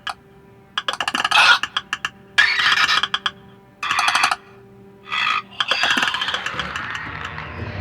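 Clicker creature sound design from The Last of Us, built as a layered composite: bursts of harsh, rapid clicking and rattling with throaty, gargled textures, arriving in short separated bursts with gaps between, no talk.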